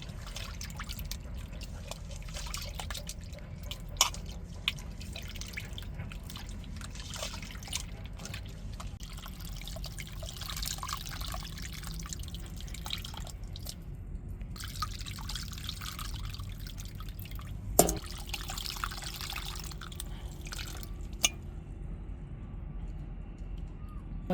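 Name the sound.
tamarind dissolved in coconut rinse water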